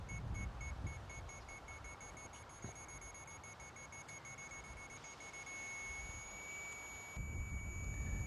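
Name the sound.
satellite terminal signal beep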